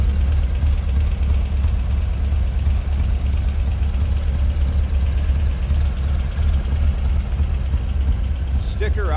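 A 1966 Volkswagen Beetle engine runs steadily at idle, a close, loud, even low rumble holding without pause, with a brief faint sound near the end.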